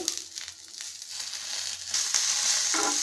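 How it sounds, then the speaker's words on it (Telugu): Coriander and red chillies fry in hot oil, a close continuous sizzle and crackle that grows louder and brighter partway through as more goes into the pan. "మిర్చి వేగాక కొత్తిమీర కట్ట తీసుకున్నాను కదా, ఇందులోనే వేద్దామండి"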